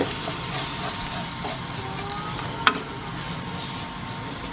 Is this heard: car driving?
no